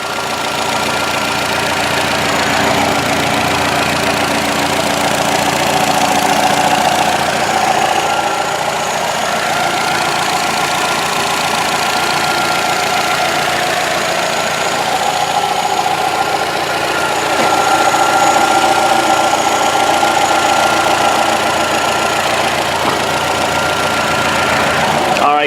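A 2010 Nissan Sentra SE-R Spec V sedan's four-cylinder engine idles steadily with the hood open, a close, continuous mid-pitched hum and knock running evenly throughout with no talking over it.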